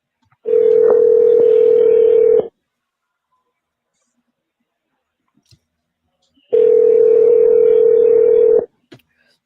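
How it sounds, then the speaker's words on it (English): Two long, loud ringback tones of an outgoing telephone call to a jail inmate line, each about two seconds with a steady pitch, separated by a long silence and a few faint clicks. "Come on, answer the phone."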